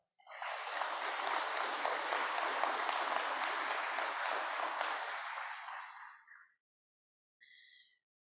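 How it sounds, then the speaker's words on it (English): Applause from an audience at a school signing-day event, a dense steady clapping that holds for about six seconds and then fades out, with a short faint burst afterward. "I just want to give them a big thank you and a round of applause"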